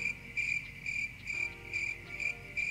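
A cricket sound effect gives steady, evenly spaced high-pitched chirps, about six bursts in quick rhythm, clear and alone against a quiet background.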